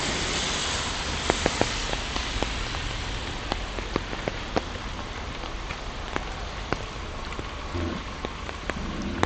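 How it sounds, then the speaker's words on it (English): Raindrops patter steadily on an umbrella during a rainy walk by a bay, a dense close hiss of rain with scattered sharper individual drop taps throughout, no talking. "I don't mind the drops on the umbrella."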